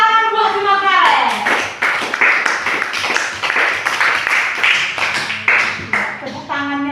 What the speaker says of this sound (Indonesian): Tepuk tangannya kok lemas.